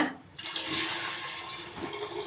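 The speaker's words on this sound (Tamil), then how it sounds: "இப்போ வந்து இந்த அரிசி கழிஞ்ச தண்ணியை வந்து சேர்த்துக்கிறேங்க" Rice-washing water is poured into a pot for Pongal at home, a continuous rushing splash of liquid beginning abruptly and running loudly to the end.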